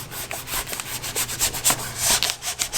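Vinyl wrap being pressed and rubbed by hand into a Ducati Panigale 1299S body panel, giving close, continuous scratchy rubbing with irregular squeaky strokes and no talking.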